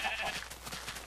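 A sheep in the video game Minecraft gives one short, fairly quiet bleat that wavers a little, heard alone with no speech.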